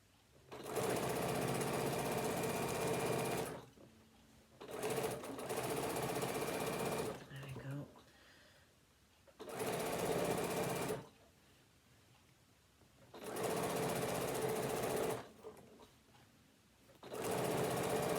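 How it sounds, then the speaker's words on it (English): A sewing machine stitching binding onto a fabric tablet holder, guided around the corners with a stiletto: loud, close bursts of rapid stitching separated by short pauses, repeating several times. "put your stiletto point and stitch till your needle's in that point and rotate round and carry on"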